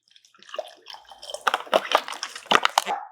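Water poured into a cooking pot over sliced mangoes, salt and pepper for a glaze, a splashing, gurgling stream that swells and pulses for a few seconds, close and fairly clear.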